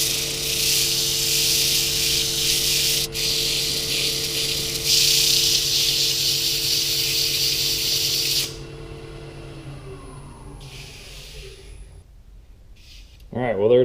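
A walnut vase is sanded while it spins on a wood lathe, giving a hissing scrape over the steady hum of the motor. The sanding stops partway through, and the lathe whine fades down to near quiet.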